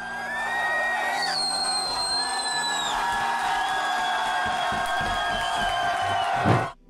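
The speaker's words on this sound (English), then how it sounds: "Just listen to the crowd's reaction." A crowd cheers and whoops at a cocktail flaring bottle-bump world record, a sustained roar with high shouts and whistles that swells, then cuts off abruptly at the end.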